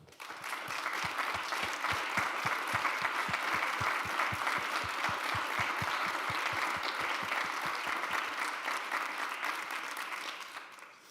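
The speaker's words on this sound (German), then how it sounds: "das ist erstmal ein Applaus wert" A convention audience at TU Wien applauds, a steady, full hall of clapping with a clearly pulsing rhythm of synchronized claps that holds for about ten seconds before tapering off at the end.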